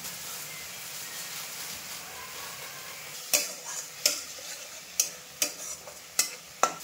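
Hilsa fish head curry cooking in oil in a pan, a low continuous sizzle broken by a series of sharp, evenly spaced scraping clacks from a spatula stirring, close and clear.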